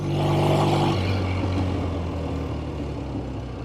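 A 1970 Triumph Tiger 650 motorcycle rides along a road, its engine a steady loud drone with a pitch that drops after the first second as it settles into a cruising rumble.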